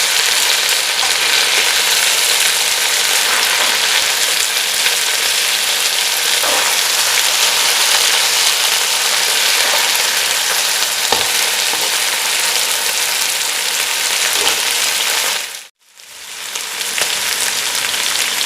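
Chicken pieces fry in a pan for lemon chicken chatkhara, a loud continuous dense sizzle with occasional clacks as pieces are turned, briefly dipping quiet near the end before the sizzle resumes.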